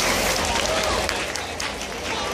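An audience applauds at a cosplay parade during the Yauco Fandom Expo 2015, dense steady clapping from a nearby crowd filling the whole stretch with some voices mixed in.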